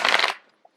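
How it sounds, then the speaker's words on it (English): Tarot cards shuffled once in a short, close riffling burst that cuts off quickly, followed by a faint small tap. "I'm getting the card shuffled out here"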